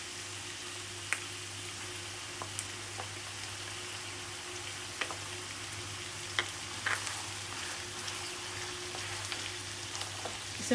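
Meat fries in a pot with onion and ginger-garlic paste, giving a faint, steady sizzle with scattered small pops and crackles and a low background hum. No one speaks.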